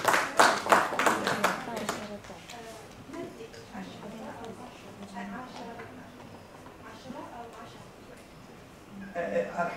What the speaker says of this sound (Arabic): شكرا لكم، تصفيق لهما